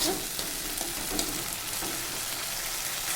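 Tilapia fish masala sautéing in oil, a soft steady sizzle with occasional light stirring scrapes, fairly quiet and unbroken throughout.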